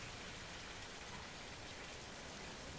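Heavy rain pours down steadily, a dense, continuous hiss of drops striking surfaces close by, with no voices or other sounds over it.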